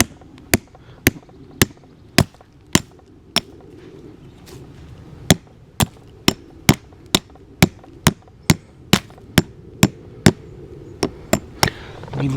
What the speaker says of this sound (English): looks like we are going to have to hammer those things into the ground there